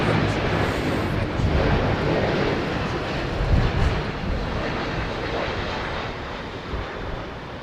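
An Airbus Beluga XL landing at Heathrow Airport produces a continuous, loud broadband jet roar that swells slightly midway, mixed with wind buffeting the microphone outdoors.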